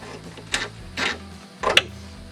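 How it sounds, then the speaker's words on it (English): A ratchet fitted with a 1/2 inch socket clicks in three short bursts while loosening a ground nut on a 2019+ Chevy Silverado 1500, each burst close and crisp with quiet gaps between. "So we're going to pull it off with a 1/2 inch socket."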